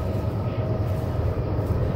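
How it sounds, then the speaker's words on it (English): Train passing near the Mississippi River along a bluff trail, a continuous low rumble heard at a moderate distance outdoors. "There's actually a train coming right now."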